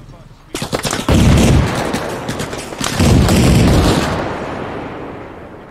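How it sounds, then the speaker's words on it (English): Infantry gunfire in the military shooter ARMA Reforger, where a few sharp single shots lead into two loud, sustained bursts of automatic fire that close by and then fade into a ringing tail. "Infantry shooting at us."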